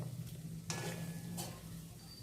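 Food fries quietly in ghee in a pan, a faint low sizzle broken by two short scraping strokes of a stirring utensil, close and without speech.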